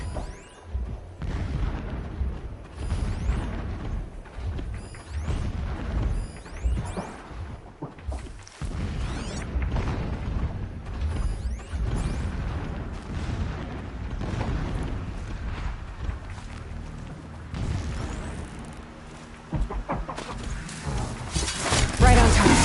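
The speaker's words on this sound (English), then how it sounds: "Explosions in the distance." Distant explosions in the video game Horizon Zero Dawn, several muffled booms and rumbles scattered over a long stretch, fairly faint under ambient game sound.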